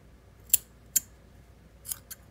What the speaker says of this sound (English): Grab our scissors.